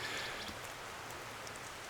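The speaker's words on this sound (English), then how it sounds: "So it started raining a little too heavy for me." Steady rain falls outdoors on a rainy morning during a Rio Grande turkey hunt in California, a continuous even hiss of drops with no voices.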